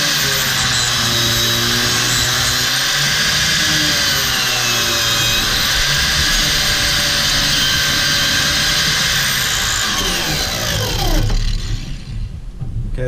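An angle grinder fitted with a chainsaw wheel cuts a groove into a dirt bike tire lug, giving a loud, sustained high-pitched whine with shifting tones that winds down at the end.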